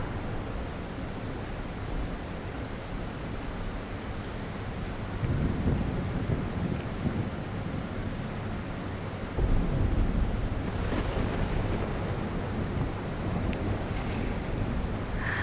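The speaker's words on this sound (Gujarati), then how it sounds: "જે રીતે સતત વરસાદ છે" Heavy, continuous rain pours down in Vadodara, a steady loud hiss of drops on surfaces with a couple of swelling low rumbles partway through and no voices.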